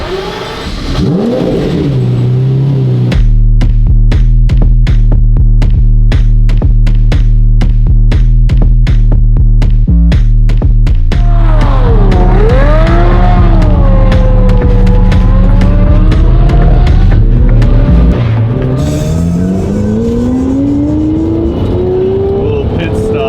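A manual-converted Lamborghini Murcielago drives loud and close, its engine droning steadily with repeated throttle blips and revving climbs, the pitch sweeping up and down while voices talk over it.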